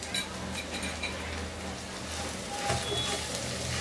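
A spoon stirs spices and chili powder in a hot pan for an aloo matar malai curry, making light clinks and scrapes over a low, continuous background sizzle. A voice talks over it.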